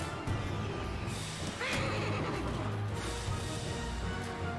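Horses neigh and whinny amid the din of a Mount and Blade Bannerlord battle, loud and continuous under dense clashing noise, with no talk.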